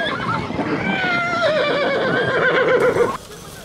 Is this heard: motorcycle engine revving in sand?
no